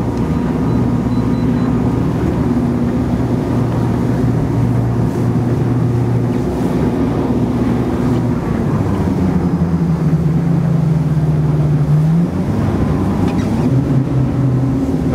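Droning outboard motor of an open Brabus Shadow 900 boat off Helsinki running steadily, its pitch dipping and rising, with wind and water rushing around it.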